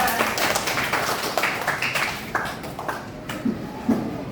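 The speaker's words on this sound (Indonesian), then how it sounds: "Tepuk tangan dong buat semuanya" A classroom audience claps in scattered, uneven bursts rather than a dense ovation, with voices heard faintly among the sharp hand claps.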